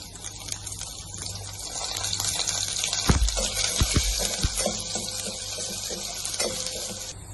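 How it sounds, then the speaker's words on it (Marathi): Crushed garlic sizzles in two spoons of coconut oil in a pot, a steady close frying hiss with a few dull knocks midway. "मग त्याच्यात घालूया ही ठेचलेली लसूण."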